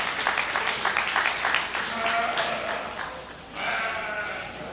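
Applause from a crowd at a county fair lamb and sheep show fills the ground, a steady broadband patter with sheep bleating through it, dipping briefly before surging again.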